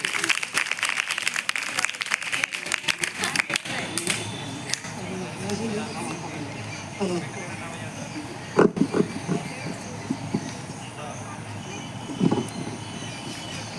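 Gandhi Jayanti function at a school: the gathered staff and students clap for the chairman, with a brisk burst of applause at the start that fades into a noisy hall with scattered knocks and background murmur.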